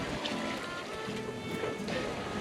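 A sailboat rolls in uncomfortable ocean waves on a cruise toward Panama, with water sloshing and rushing against the hull under a steady wash of wind and sea noise.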